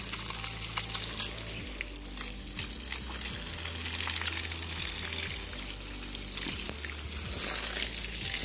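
Water poured and splashing over a horse during a bath on a hot day, a steady continuous rush of gushing water lasting throughout, fairly close.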